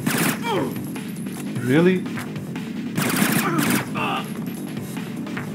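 Gunfire in the Splinter Cell video game comes as a few sharp shots and bursts against a busy game soundscape, mixed with brief voices talking.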